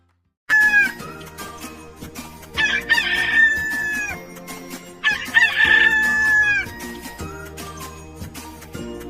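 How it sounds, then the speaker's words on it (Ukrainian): Two loud rooster crows ring out one after another, each a long drawn cock-a-doodle-doo, with low background music underneath. "Це кукурікає півник."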